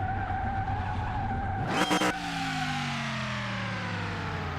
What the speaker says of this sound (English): The wheel spins so much in second and third gear.